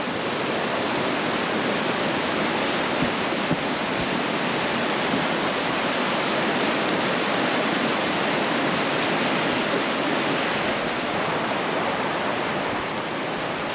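A river rushes beside the hot spring sheds in a Kyrgyz yurt camp, a loud, unbroken roar of flowing water filling the whole stretch without pause or voices.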